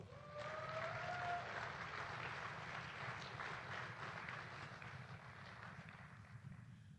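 Audience applause at the Otto Graham Award ceremony as a player and head coach from Somerset Berkeley High School are honored: steady, dense clapping from a large crowd that holds for the whole stretch and tapers slightly toward the end, with no speech over it.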